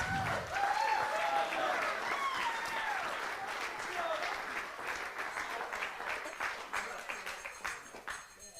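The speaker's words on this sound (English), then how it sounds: "Everybody, please, another round of applause." Wedding guests applaud in a sustained, steady round of clapping from a full room, with voices and cheers mixed in throughout.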